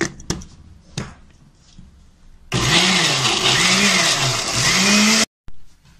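A blender grinds green salsa with chiles, salt and a little water, roaring loud and close for about three seconds with a rhythmic pulsing churn, then cutting off abruptly.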